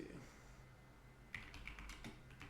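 Simple English text commands typed on a computer keyboard for a text adventure game, a quick, faint burst of key clicks after a short quiet pause.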